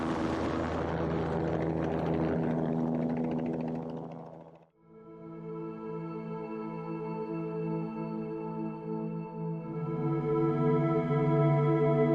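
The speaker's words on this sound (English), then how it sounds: "The fixed wing and helicopter have just gone up into the sky" Helicopter and fixed-wing aircraft taking off into the sky over Kruger National Park during a rhino conservation operation, a loud rotor and engine drone that cuts out abruptly, then a steady humming engine tone alone.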